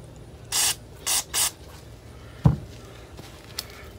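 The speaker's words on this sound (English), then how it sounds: "I'm just gonna take each part and hit it with some spray right up the" Cleaner sprayed into disassembled 1957 7.5 HP Johnson outboard carburetor parts on a workbench: three short close hissing bursts, followed by a few light clinks of handled metal parts.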